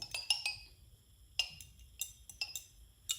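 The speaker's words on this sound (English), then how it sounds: "I'm going to give that a good stir using my glass rod" A glass stirring rod clinks against the inside of a glass beaker of acid solution, a series of sharp, bright taps in irregular bursts, close and fairly quiet with near silence between them.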